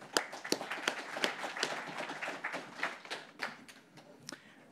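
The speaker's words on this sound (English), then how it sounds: "Please give a round of applause to Eduardo" Audience at the JupyterCon conference in Paris applauds a speaker, a smattering of individual claps at moderate distance, fairly quiet and tapering off after a few seconds.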